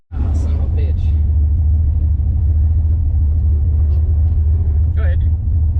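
An old turbocharged truck launches hard off the line and spins its tires, a loud steady engine roar that holds without letup from start to finish, with brief voices breaking in over it.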